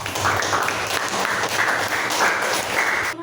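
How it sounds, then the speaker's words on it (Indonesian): A classroom group applauds, a steady burst of many hands clapping at close range that holds for about three seconds and then cuts off abruptly. "Oke, give applause."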